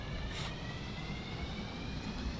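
Modded engine running in the Stormworks building game, a faint steady mechanical drone with a thin high whine holding constant throughout, heard alone without voices.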